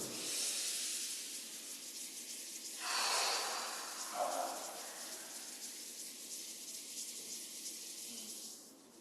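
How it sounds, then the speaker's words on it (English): Palms rubbing together during a breathing exercise, giving a steady, close, soft hissing friction that lasts several seconds, with a stronger swell partway through and breath sounds mixed in. "Rubbing the palms together,"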